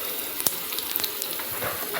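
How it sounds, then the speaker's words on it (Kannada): Spiced puffed rice for Davangere-style nargis mandakki fries in a pan with a continuous close sizzle, broken by a few faint clicks of stirring. "ಸ್ವಲ್ಪ ಫ್ರೈ ಆಗಬೇಕು"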